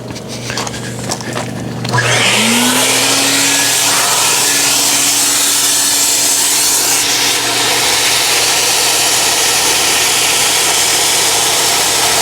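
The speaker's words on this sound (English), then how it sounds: "I'm gonna flip on the vacuum." A car-detailing extractor vacuum switches on with a rising whine and then roars steadily and loud as it pulls dirt out of car seat upholstery, with a rough rubbing texture.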